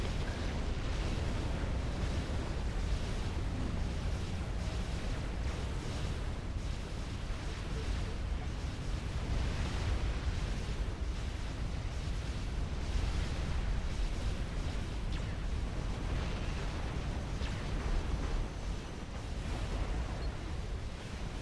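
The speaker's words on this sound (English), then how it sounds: "Yay! Artillery! Let's go!" Artillery barrages and explosions in the strategy game Supreme Commander: a dense, continuous roar of overlapping blasts and rumbling impacts that stays loud and unbroken, with voices talking over it.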